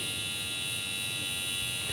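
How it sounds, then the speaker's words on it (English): A cocktail smoker device buzzes steadily while smoking, with a constant close electric whir and hum that holds at an even level and never changes. "This sound is actually the smoker right here."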